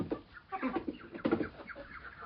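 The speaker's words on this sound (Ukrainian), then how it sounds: "Півні хто до корита, хто до трави." Roosters and ducks in a farm poultry yard, with clucking and crowing-like calls overlapping in a busy, moderately near cluster of fowl sounds, no talking.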